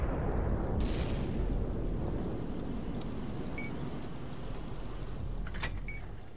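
A tank cannon firing in World of Tanks, as the SU-122-44 tank destroyer, starts with a loud, broad boom that decays slowly. Short metallic impact clicks follow later over the low rumble of the engine.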